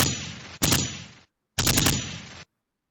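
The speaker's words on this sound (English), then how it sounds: "Wait, that was a gunshot." A gunshot sound effect played during a podcast: two loud bursts of sharp, clustered shots, each followed by a fading tail and then silence.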